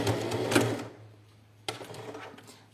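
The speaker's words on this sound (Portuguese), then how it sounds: "E vamos costurar bem na beiradinha." A sewing machine runs along the edge of a plastic pouch in a short close burst of fast stitching, pauses briefly near silence, then starts again for a second run.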